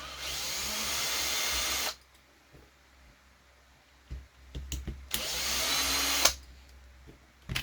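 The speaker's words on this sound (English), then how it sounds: "we're going to remove the two screws that I have not yet pulled out from the top" A power screwdriver backs out screws from the rear floating body mount bracket of a Losi 22S drag RC car, two loud whirring runs of about two seconds each, with small clicks and handling noises between them.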